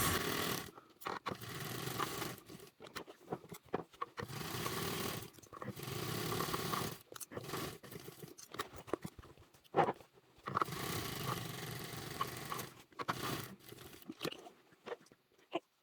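Sewing machine basting a seam on a large foldable tote bag, loud bursts of rapid mechanical stitching stopping and starting in several runs, with short quiet gaps between.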